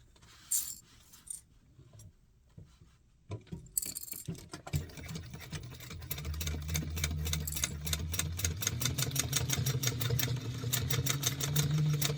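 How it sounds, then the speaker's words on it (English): A sewing machine stitches garment lining fabric together. Scattered handling clicks and taps come first, then the motor starts and runs in a rapid, steady mechanical rhythm of needle strokes for the last several seconds, close and fairly loud. "And we'll go ahead and sew this together."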